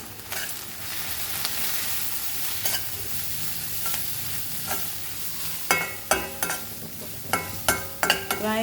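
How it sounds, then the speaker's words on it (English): Chicken masala with a pinch of asafoetida frying in a pan, a loud continuous sizzle broken by a series of sharp spoon scrapes and knocks that grow more frequent toward the end, with no voices. "Fry this for few minutes till the masalas are nicely fried."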